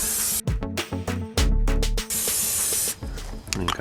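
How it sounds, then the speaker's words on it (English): Spray is applied in bursts to a Char-Griller 980 Gravity Series charcoal grill during burn-in and seasoning, giving close, loud hissing pulses with short gaps between them. "Let's get this sprayed down real good."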